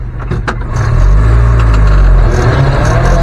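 A 1971 Land Rover Series 2a Marshall ambulance engine rumbles steadily up close, the low drone building slightly as the vehicle moves forward, with faint clicks and rattles early on.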